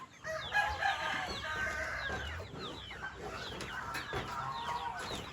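Hens and small chicks on a farm cluck and cheep steadily, with high peeping chirps scattered over lower clucks, fairly close and busy for the whole stretch.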